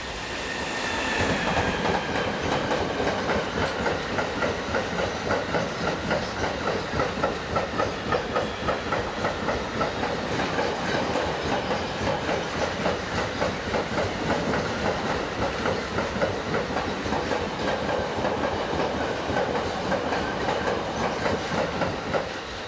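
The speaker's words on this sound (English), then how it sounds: "(186-246) is in charge of a loaded car train from Pörna, near Dresden, to Emden" A loaded car train carrying Skoda cars from Pörna near Dresden to Emden, hauled by locomotive 186-246, rolls past close by with steady clickety-clack of wheels over rail joints and a continuous hiss, loud and unbroken throughout.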